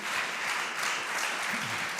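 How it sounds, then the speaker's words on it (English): An audience at a conference on travel transformation and AI applauds its panelists with steady, dense clapping that fills the room at an even level throughout. "Can I have a round of applause for my panelists, please?"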